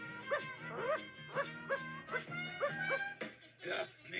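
A group of voices imitates a dog barking, a run of six or seven short, bright yelps in a steady rhythm, followed by a few looser, scattered barks and some chatter.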